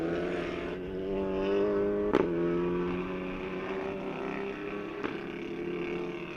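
A TCR touring race car engine at Sonoma drones steadily at high revs, misfiring with two sharp cracks or pops breaking through, the second a few seconds after the first; no talking.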